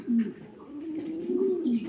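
Pigeons coo nearby in low, throaty, rolling notes, a continuous murmuring call close to the listener.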